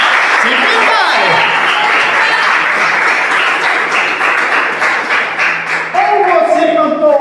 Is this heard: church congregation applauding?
yes